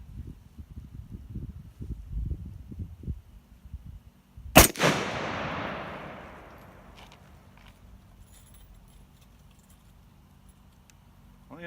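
A single loud rifle shot from a PSA 6.5 Creedmoor AR10 cracks outdoors and rolls off into a long fading echo, preceded by faint shuffling and handling noises.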